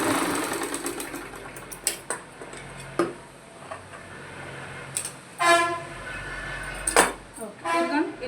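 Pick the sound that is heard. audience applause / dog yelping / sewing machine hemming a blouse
sewing machine hemming a blouse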